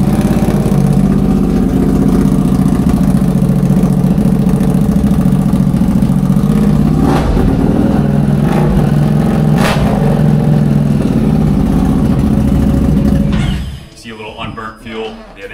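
A 2004 Harley-Davidson Softail Deuce with a race pipe idles loud and close, a thick rumbling drone with a couple of brief throttle blips, cutting off near the end into quieter shop sounds and people talking.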